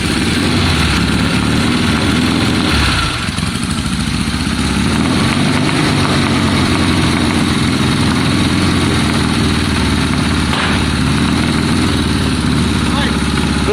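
1972 Triumph Bonneville T120 motorcycle with a Mikuni carburettor running after a kick start, a loud close steady engine rumble throughout, with voices in the background.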